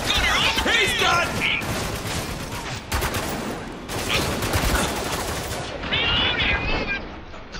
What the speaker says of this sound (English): They shot me in my ass, Jimmy.